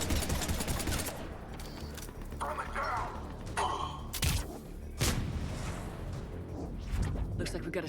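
Pistol fire in the video game Mass Effect 3: a busy combat mix of scattered sharp shots and thuds, a few standing out as loud distinct cracks, under near-continuous talking.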